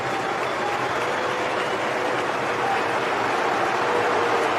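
Stadium crowd roaring and cheering after England's equaliser against Senegal at the 2026 World Cup, a dense, sustained wash of noise with no break.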